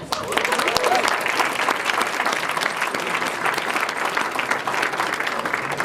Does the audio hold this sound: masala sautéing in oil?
no